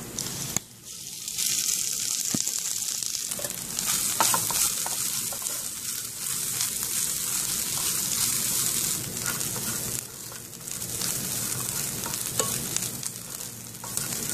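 Grated coconut frying in a pan for a stuffed plantain filling, with a continuous sizzling hiss and steady scraping and stirring throughout, close and fairly loud.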